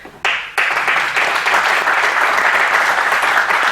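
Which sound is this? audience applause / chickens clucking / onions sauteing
audience applause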